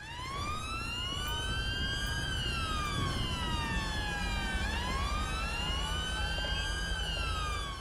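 A London Metropolitan Police siren wails continuously and loudly nearby, its rising and falling tones overlapping with another siren over steady traffic rumble.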